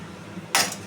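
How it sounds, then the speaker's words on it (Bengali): A short metallic clink from a cooking pot lid being lifted while pumpkin-leaf curry cooks, one quick bright scrape over quiet room background. "এবার আমি ঢাকনা খুলে দেখব"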